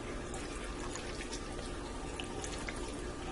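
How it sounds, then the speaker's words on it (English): Two cups of milk pour steadily into a Ninja cooker pot, a continuous close liquid rush and trickle lasting a few seconds with no speech. "So there goes 2 cups of milk."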